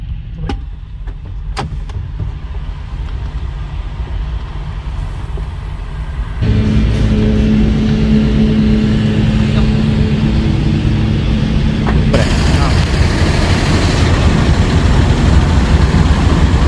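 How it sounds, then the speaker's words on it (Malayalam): A large diesel truck idles and rumbles at a fuel station, its low steady engine drone growing louder and fuller partway through, with a second rise later, continuous and close with no talk. "ഫ്യൂവൽ സ്റ്റേഷനിൽ ട്രക്കുകൾ ഫ്യൂലടിക്കാൻ വന്നിറങ്ങണം കേട്ടോ"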